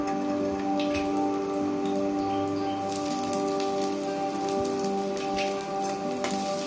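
Ginger and garlic paste frying in hot oil for paneer butter masala, a dense, even crackling sizzle that runs steadily throughout, close and continuous with no speech.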